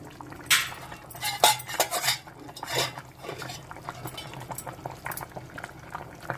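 Mixed vegetable dal stew with eggplant, okra and drumsticks simmering in a clay pot, soft bubbling and liquid sounds with a few sharp clinks of a spoon against the pot, close and quiet, no voices.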